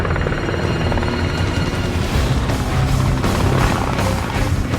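Helicopter coming in to land on a Skoda Yeti car, its steady rotor thudding and turbine roar loud and close throughout.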